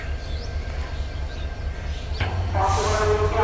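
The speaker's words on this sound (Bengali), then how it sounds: "পঞ্চগড় থেকে ছেড়ে আসা ঢাকা অভিমুখী পঞ্চগড় এক্সপ্রেস পার্বতীপুর রেলওয়ে জংশনের এক নম্বর প্ল্যাটফর্মে এসে প্রবেশ করছে" On a hot day, the Panchagarh Express pulls into platform one at Parbatipur Junction with a low steady rumble. It swells louder near the end as a bright hiss and tonal wheel or brake sound rise over it.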